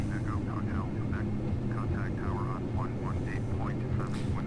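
Airplane engines roar steadily during the takeoff roll, a constant droning rumble heard from inside the cockpit, with a pilot speaking over it throughout.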